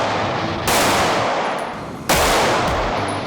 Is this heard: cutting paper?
no